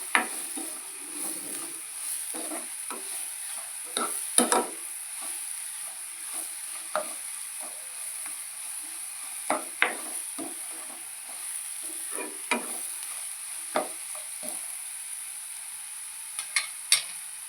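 Chicken curry with coarse salt frying in a pan, a steady high sizzle broken by scattered sharp clicks and scrapes of a spoon stirring, close and alone with no voices.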